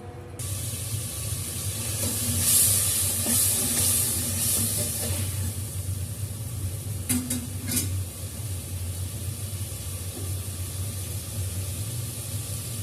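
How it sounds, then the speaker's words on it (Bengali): Spices frying in oil for a fish curry with winter vegetables, a steady close sizzle and hiss with occasional stirring scrapes and clinks over a low background hum. "অল্প একটু কষিয়ে নেব মশলাটা মশলাটা কষানো হোক"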